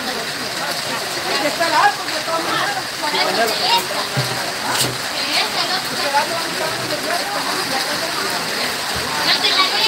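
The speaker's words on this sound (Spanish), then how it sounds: "usted quería ver el agua, la lluvia." Steady hiss of heavy rain or rushing water runs throughout, with faint voices speaking over it.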